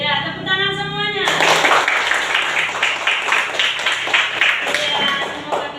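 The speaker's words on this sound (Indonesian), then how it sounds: "Oke, ya, tepuk tangan semuanya" Children in an Indonesian classroom lesson break into lively group applause, a dense, steady patter of many hands clapping that follows a short stretch of a teacher's voice.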